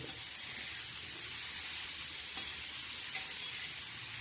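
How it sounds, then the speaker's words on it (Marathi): Spiny country okra frying in a pan while being stirred, a steady hissing sizzle with a couple of sharp spatula clicks, quiet and close. "आपण सर्व भेंड्या टाकल्या आहेत आणि मस्त अशा हलवून घेणार आहोत"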